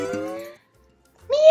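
A kitten cries with a close, clear meow, falls silent for a moment, then gives a second rising meow. A child-like voice may be imitating the cat.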